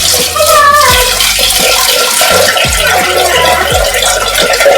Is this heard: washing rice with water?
yes